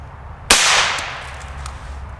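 A single sharp 9mm pistol shot fired with Liberty ammunition through a chronograph cracks loudly, then its report decays and echoes outdoors for over a second.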